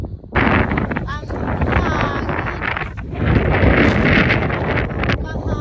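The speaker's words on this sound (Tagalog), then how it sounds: "Mahangin sa labas." Wind gusting outdoors on a desert hike toward Paradox Arch in Arizona, buffeting the microphone with loud, uneven rumbling and rushing that swells and dips throughout.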